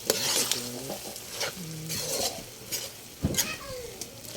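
Onions sizzle steadily in hot oil in a pan for Filipino bopis, with a spoon or spatula scraping and clinking against the pan throughout, close and continuous.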